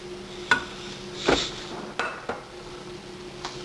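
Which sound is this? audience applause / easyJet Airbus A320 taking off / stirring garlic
stirring garlic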